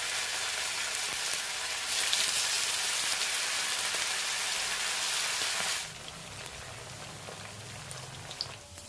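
Masala-marinated chicken pieces frying in hot oil, a loud, dense crackling sizzle that drops abruptly to a softer, quieter bubbling for the last few seconds.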